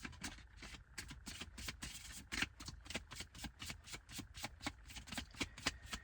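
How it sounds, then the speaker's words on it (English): Tarot cards are shuffled by hand in quick riffling bursts, a steady run of soft papery flutters and taps, close and fairly quiet, with no talking. "I want to pull one more card, actually."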